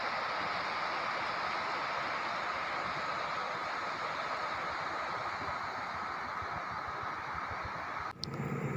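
Pangrango passenger train running from Bogor Paledang toward Sukabumi over the Slab on Fill Batakal on the Bogor–Sukabumi double-track line in Indonesia, a steady, fairly distant rushing rumble lasting throughout, with a sharp clatter near the end and no voices.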